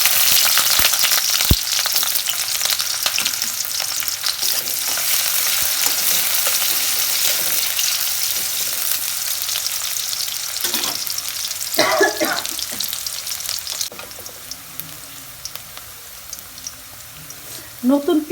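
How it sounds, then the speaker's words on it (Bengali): Sliced onions sizzle steadily in hot oil in a karahi, a loud continuous frying hiss with occasional stirring clatter near the end. "তেল গরম হচ্ছে, পেঁয়াজ দিচ্ছি।"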